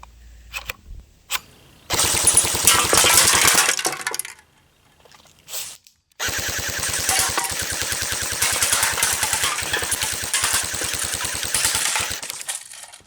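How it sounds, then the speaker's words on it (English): A Cybergun AK47 airsoft rifle fires 6mm BBs on full auto at pop cans. Two long, rapid, loud bursts of clattering shots are separated by a short pause, with no talking. "Here's some shooting I did with the Cybergun AK47."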